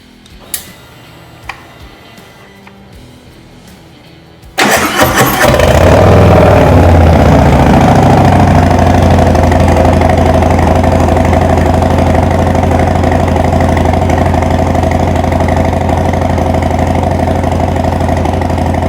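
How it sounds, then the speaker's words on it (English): A 2024 Harley-Davidson Street Bob FXBBS engine fires up after a few quiet clicks, then settles into a loud, steady rumbling idle through a throaty aftermarket performance exhaust. "I'm gonna start this one real quick so that you guys can hear how good this pipe sounds"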